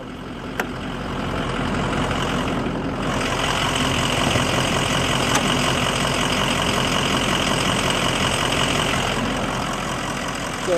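A 6.0 diesel engine idles in a 2005 Ford E450 ambulance built by Wheeled Coach, a steady, continuous rumble held at an even level throughout, close by, with no talk.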